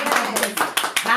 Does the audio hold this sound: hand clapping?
yes